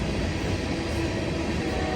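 Union Pacific tanker train passing Emeryville Amtrak station, a steady broadband rumble and roar of rolling freight cars, loud and continuous with no talk.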